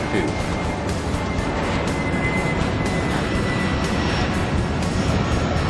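A jet airliner in the video game Airport Madness 3 rolls for takeoff, a steady, loud engine roar with a faint whine that holds evenly throughout, with no change in intensity.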